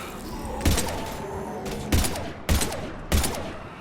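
Gunfire in Mass Effect Legendary Edition: four sharp, loud shots spaced about half a second to a second apart over a low background ambience.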